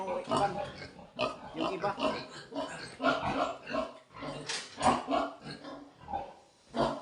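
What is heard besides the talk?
pigs grunting on a pig farm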